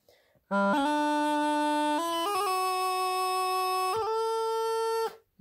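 A reedy, droning Nixon bagpipe practice chanter plays a slow tune of sustained notes, loud and close, each pitch held steadily before stepping to the next.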